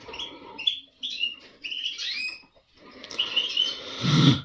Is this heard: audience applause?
no